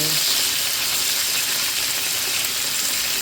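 Marinated sweet and spicy pork spare ribs fry in a pan with a steady, loud, broad sizzle that holds evenly throughout, close up and without pause.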